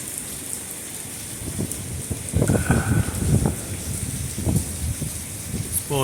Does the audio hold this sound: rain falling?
yes